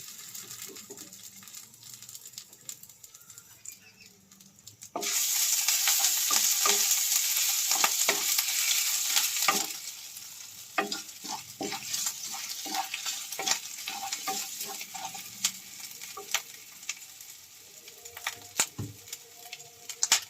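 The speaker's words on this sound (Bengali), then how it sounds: "এবারে দেবো গোটা তেজপাতা। এবারে অ্যাড করবো আদা কুচি।" Whole bay leaf and chopped ginger dropped into hot oil for Basanti pulao burst into a loud sizzle, which settles into a lighter crackle under frequent scraping stirs.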